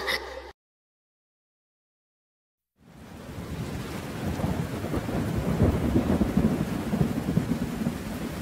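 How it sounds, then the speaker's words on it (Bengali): Rain and thunder effect in a children's cartoon song: after a short burst of music and a silent gap, a steady loud wash of rain with rumbling thunder builds and fills the rest, with no voices. "রিম ঝিম রিম ঝিম, বৃষ্টি এলো টিপ টিপ টিপ টিপ, বৃষ্টি এলো।"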